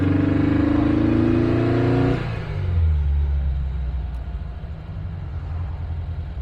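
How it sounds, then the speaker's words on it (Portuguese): A repaired 1958 car engine revs with a strong, steady tone for about two seconds, then drops to a low, even idle that rumbles on alone. "Só pela marcha lenta que o carro tinha para agora, ele já está completamente diferente."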